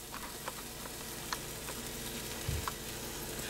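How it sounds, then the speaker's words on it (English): Top ramen noodles sizzle in a hot pan with a steady, quiet frying hiss, broken by a few soft ticks and pops. "Now we hear the sizzle"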